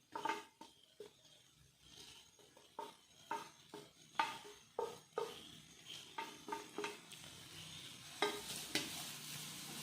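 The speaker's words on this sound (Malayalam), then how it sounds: "ഈ തേങ്ങ കുറച്ച് വഴണ്ടി തുടങ്ങിയിട്ടുണ്ട്." Lightly crushed coconut sautéing in a pan, with a steady run of scraping stirs at a roughly even pace and a low sizzle underneath, heard close, with no voices.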